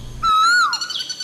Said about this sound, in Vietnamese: Tu hú là một loài chim quen thuộc, nhưng ít khi bắt gặp ngoài tự nhiên.